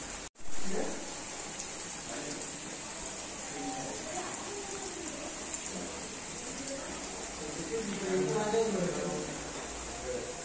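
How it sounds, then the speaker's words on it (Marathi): Steady rain patters across a village courtyard, a broad continuous hiss with scattered drops, while voices murmur faintly in the background. "आणि ना गावी मस्त पाऊस पडतोय"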